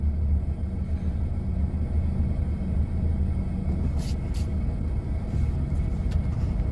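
Steady road traffic in Trinidad, a continuous loud rumble of passing cars and engines with no break, filling the whole stretch with brief higher clicks near the end.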